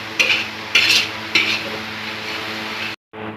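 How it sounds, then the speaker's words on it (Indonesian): Garlic frying in a pan while a utensil scrapes and stirs through it, three distinct stirring strokes over a steady close sizzle, with no voices. "Kita aduk sampai harum, sampai berubah warna kecoklatan sedikit."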